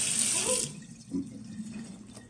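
A pull-out kitchen faucet in a home kitchen runs with a bright hiss of water for about half a second, then shuts off, leaving faint drips and low room noise.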